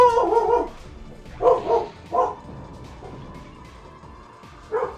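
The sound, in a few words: dog barking excitedly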